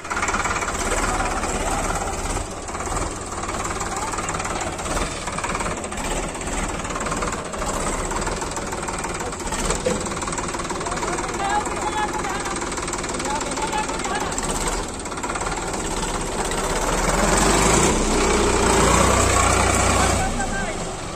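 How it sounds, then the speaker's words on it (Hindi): A tractor engine labors continuously while pulling out another tractor that is stuck, a loud, rough, knocking drone that swells toward the end. "तो गाइस ये फंस चुका है ट्रैक्टर, इसको निकाला जा रहा है।"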